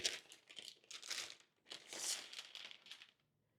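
Paper packaging from a Dell Pro Max 16 laptop crinkles and rustles in two close bursts of handling, crisp and bright, fading to quiet at the end.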